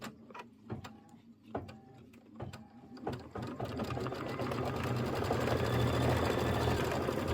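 Computerized sewing machine quilting an autumn-themed quilt filler block: a few spaced mechanical thumps and whirs at first, then a continuous fast, rhythmic motor hum and needle chatter that grows louder and steadier, with no talking.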